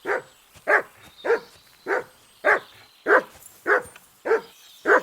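A dog in the Kingdom Come Deliverance 2 video game barks repeatedly at an even pace, about nine sharp woofs spaced roughly half a second apart, close and clear with no talk over them.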